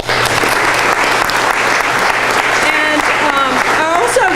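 An audience at a Bristol, Tennessee civic event applauds city council members, loud sustained clapping with a voice talking over it near the end.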